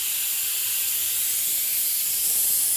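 A pressure cooker releases built-up steam in a loud, steady, broadband hiss that runs unbroken for the whole clip, close by and alone.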